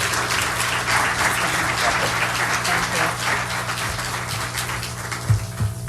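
An auditorium audience applauds steadily in welcome of Deputy Secretary of Defense Kathleen Hicks, a dense, even wash of clapping that holds throughout before easing near the end.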